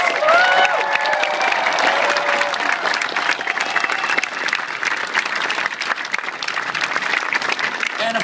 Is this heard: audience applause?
yes